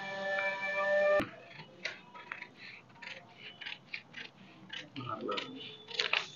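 Scissors snip through a paper sewing pattern with the hands and cross lines cut out, giving a run of short, close crisp cuts and rustles after a brief tonal beep at the start.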